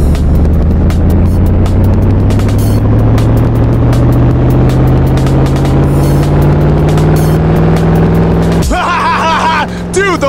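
A Hummer drives in the Roblox video game, its engine a loud, constant, droning rumble with a rising pitch that cuts off near the end as a voice starts talking.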